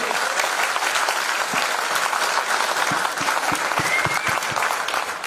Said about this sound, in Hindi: एक बार जोरदार ताली होनी चाहिए इस प्रोडक्ट के लिए